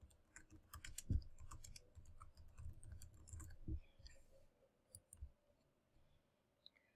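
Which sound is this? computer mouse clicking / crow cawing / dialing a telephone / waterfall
computer mouse clicking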